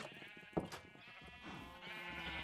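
A single short sheep bleat from Minecraft, faint against quiet game ambience with a low hum and no talk.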